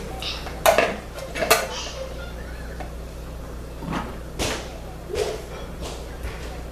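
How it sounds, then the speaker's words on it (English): Clinks and light knocks of glass and dishware as a glass lid is placed over a glass bowl, a few sharp taps and scrapes spread over several seconds, close by in a quiet kitchen. "I'm going to use the lid to my glass bowl just to kind of put over it"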